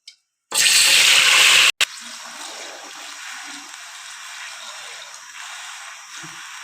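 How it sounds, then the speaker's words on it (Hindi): Sugar syrup is poured into a hot kadhai already holding cardamom, making a loud, steady rushing pour for just over a second, then a low bubbling simmer that continues quietly alone. "जो चाशनी बनाई है वो इसके अंदर डाल देते हैं हम।"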